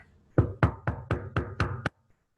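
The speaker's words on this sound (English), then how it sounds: "There is a loud knocking at the door." Six loud, evenly spaced knocks pound on a door in a stage-play scene set in a parlor at night, ringing out alone with no voices.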